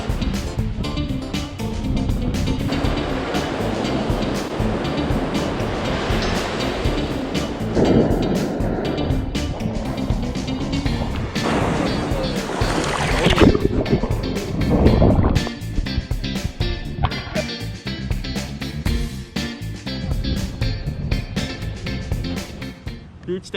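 Atlantic Ocean waves roll onto a beach in repeated surges of rushing surf, with wind buffeting the microphone and voices talking at times.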